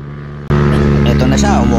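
A scooter revving hard as it overtakes on a road, its engine droning loud and steady close by and rising in pitch, with voices talking over it.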